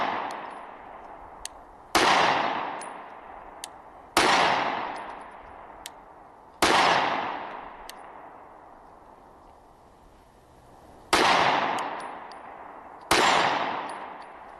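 Six sharp, loud pistol shots from a ported SIG Sauer P365 SAS, spaced a few seconds apart, each with a long ringing outdoor echo that fades before the next, with no talk.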